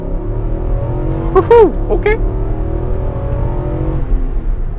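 A 2021 Nissan Armada Platinum SUV engine hums steadily, held around 2000 rpm in a brake-torque launch, close and loud, while a voice whoops briefly over it.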